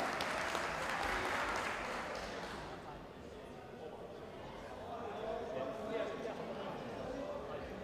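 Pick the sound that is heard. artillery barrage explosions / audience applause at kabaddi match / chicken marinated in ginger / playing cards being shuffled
audience applause at kabaddi match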